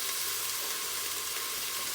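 Grated tomatoes, three of them, sizzling in a hot pan while a bean dish cooks: a steady, dense hiss of frying that stays even and close throughout, with no voices over it.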